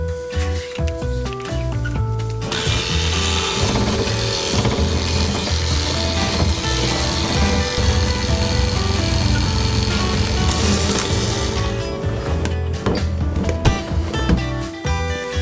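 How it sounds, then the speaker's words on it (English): Lemon drizzle cake batter is whisked, probably with an electric mixer, producing a continuous, loud, whirring hiss that runs for most of the stretch and stops near the end, with background music playing throughout. "Whisk together until the mixture is light and fluffy."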